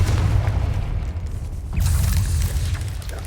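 Confringo spell explosion in the video game Hogwarts Legacy, a heavy low boom with rumbling tail, then a second blast with a brighter crackling burst midway, loud and full over the game soundscape, no voices.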